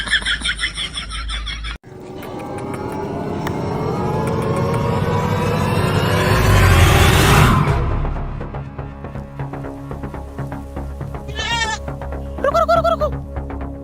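Goats bleat while being taken to market for sale at Eid, the cries close and loud over a rising vehicle engine drone and traffic noise, with sharp wavering bleats near the end.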